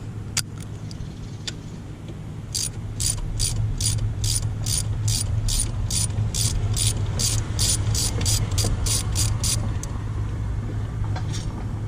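A ratchet clicks in a fast steady run of about twenty close, loud pawl ticks while removing 10 mm bolts from the intake of a Dodge Ram 2500 with a 5.9 L 24-valve Cummins, over a low background rumble.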